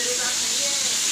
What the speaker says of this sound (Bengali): আর ওইদিকটা তো রান্নাটা মাছটা ভাজা বসিয়েছি